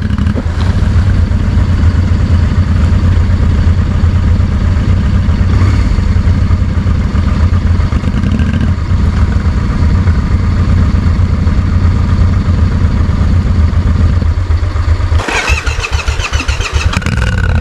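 A motorcycle engine runs loudly and steadily at idle after riding into a river, a constant rumbling drone close by, roughening and changing near the end.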